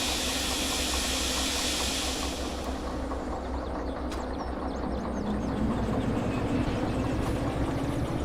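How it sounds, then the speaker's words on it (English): Air brake of a locomotive in the Derail Valley train simulator, a loud broadband hiss for a couple of seconds that cuts off, leaving a steady engine rumble underneath. "Train brake."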